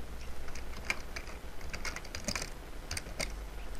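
Someone typing an email address on a computer keyboard, soft quick irregular key clicks close by over a quiet low hum.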